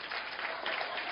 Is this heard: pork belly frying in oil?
no